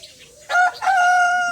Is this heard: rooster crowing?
yes